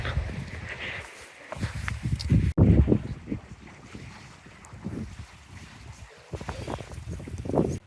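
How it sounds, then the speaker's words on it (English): Gusty wind batters and flaps a tent's fabric at a wild campsite in irregular rustling bursts and thumps, loud and close, with a sharp snap partway through. "It's been really windy. This isn't a good tent for the wind. You can hear it flapping about."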